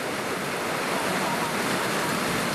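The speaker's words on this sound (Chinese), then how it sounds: "车辆经过溅起水花。" Vehicles plough through knee-deep flood water on a Macau street during a black rainstorm warning, throwing up a steady, loud wash of splashing and spray that fills the whole stretch without a break.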